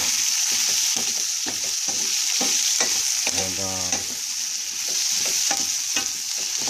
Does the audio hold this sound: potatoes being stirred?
yes